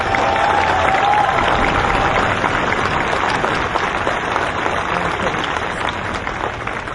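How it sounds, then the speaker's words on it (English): A rally crowd at a Child Protection League event claps steadily for the organizers, a dense, even wash of applause lasting about seven seconds with no clear voices on top. "So let's give them a round of applause as well."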